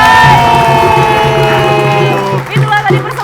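A school crowd cheering and applauding at a high school quiz competition in Palembang after a chant performance, loud and sustained, with an announcer speaking over it.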